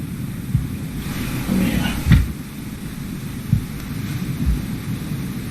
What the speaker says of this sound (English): we're dealing with a storm, a lightning storm.